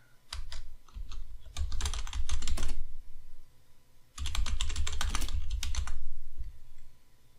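Fast typing on a computer keyboard heard up close in two long bursts of rapid clacking separated by a brief pause, over a low hum, with no speech.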